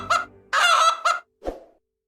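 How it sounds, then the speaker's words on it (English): A chicken-like fowl call, several short clucking bursts followed by a longer squawk and a lower grunt, close and clear with no talking. "I'm a chicken."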